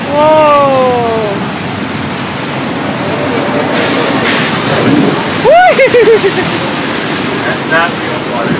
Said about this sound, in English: That's not real water. It's a real flood.